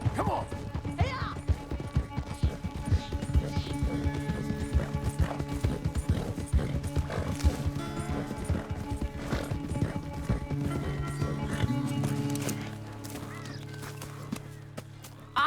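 Horses gallop flat out in a race with rapid, heavy hoofbeats, their riders whooping and shouting them on, before the pounding slows and fades to a near stop at the finish.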